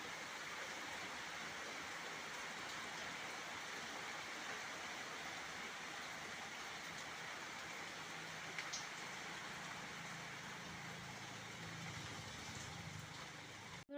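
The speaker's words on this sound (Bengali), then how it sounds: "এই দেখো বৃষ্টি হচ্ছে" Steady, dense hiss of rain falling, even and continuous throughout with no pauses, fairly close and unbroken by voices.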